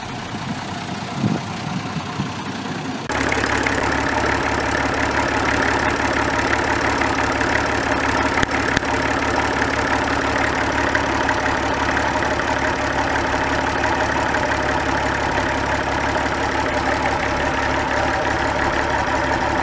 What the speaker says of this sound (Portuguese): Outro motor bem legal era o Perkins 6 cilindros que equipava o caminhão Ford